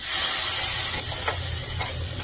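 Garlic and chilli hit hot tempering oil, giving a steady, close hiss and sizzle throughout with a couple of faint sharper crackles, no voices.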